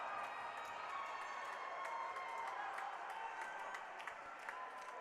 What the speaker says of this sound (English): a round of applause from both sides for the good offensive approach and the better save by Jack O'Connor